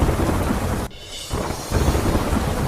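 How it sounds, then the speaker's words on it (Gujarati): A heavy downpour with thunder in the Kandiya area of Kutch, Gujarat, roars loud and close, dropping briefly to a quieter hiss before the dense rush of rain resumes. "કાંદિયા પંથકમાં ધોધમાર વરસાદ"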